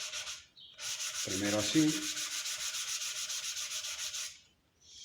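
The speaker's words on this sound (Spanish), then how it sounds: "Podemos lijar en sentido contrario y no va a rayar la pieza." Hand sanding wooden marquetry with 400-grit wet sandpaper, a rhythmic scratchy rubbing in quick back-and-forth strokes, close, with a brief spoken phrase partway through.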